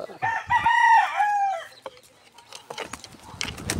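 A rooster crows once loudly and close, a drawn-out cock-a-doodle-doo, followed by soft clucking and rustling noises.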